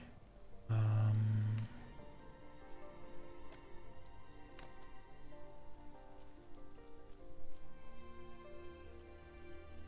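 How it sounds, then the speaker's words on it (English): Rain falls in the Chinese wuxia MMORPG Justice Online (Nishuihan), a steady patter over soft game music and tones, with a brief loud thump near the start. "I love the game when it rains too."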